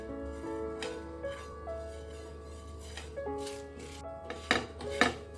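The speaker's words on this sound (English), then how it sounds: "Roast all these spices on a low flame." Fenugreek seeds, carom seeds and dry red chilies roast in a pan over a low flame, with soft, close scrapes and clinks of stirring over a faint steady background hum.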